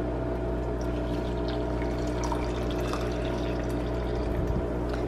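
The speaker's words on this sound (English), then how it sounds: "Pour in my coffee." Coffee pours steadily into a cup, a continuous soft liquid trickle and gurgle over a low background hum, quiet and unbroken throughout.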